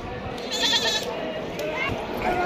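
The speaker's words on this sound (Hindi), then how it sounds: "एक ये देखिए बड़े बड़े बकरे हैं, गुजरी है माशाल्लाह, बकरा देखे" Goats bleat repeatedly at the Deonar livestock market in Mumbai, wavering calls rising over busy crowd noise while people talk nearby.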